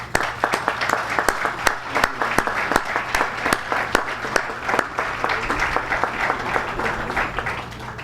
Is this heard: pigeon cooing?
no